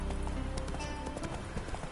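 Hooves of a horse galloping in The Witcher 3 video game, a steady rapid clip-clop rhythm that runs continuously at moderate loudness over a dense background of game ambience.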